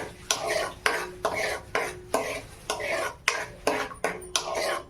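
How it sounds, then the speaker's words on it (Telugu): Manchurian ingredients mixed by hand in a bowl, with repeated rhythmic stirring and squelching strokes of roughly twice per second, loud and close, and no talking. "చూస్తున్నారు కదా ఇలా కలుపుకోండి"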